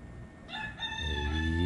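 A rooster crows, close and loud, its long harmonic call rising and holding for over a second before cutting off, with no talk.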